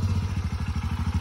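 A motorcycle engine running close by, a steady rapid low putter with evenly pulsing beats throughout.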